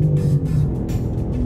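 A 2024 BMW M3 CS accelerates hard on a race track, its engine a loud close rumble that climbs in pitch with a shift partway through, heard without voices.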